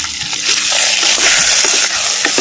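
Tomatoes and a small lump of tamarind frying in oil with ginger and curry leaves, a steady loud sizzle with stirring scrapes throughout, no talk.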